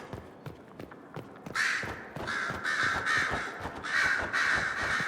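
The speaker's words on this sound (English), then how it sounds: "Hello, birds. So nice to hear you." Birds cawing in the video game Dragon Age: Inquisition, loud repeated crow-like caws in quick bursts over a rhythmic thud of footsteps.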